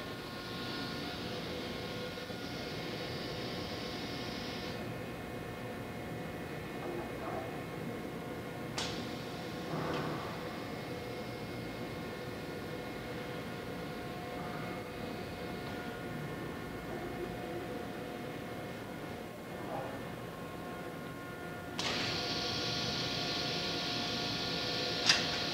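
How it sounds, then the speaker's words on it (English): Automated gravity-feed three-step cleaning machine whose gantry lifts a part from tank three and places it on the unload conveyor: a steady low industrial hum with a hiss that starts and stops and occasional faint clicks and clunks. "tank three's finished up its drying cycle, so we're gonna pick that up and place it on the unload conveyor"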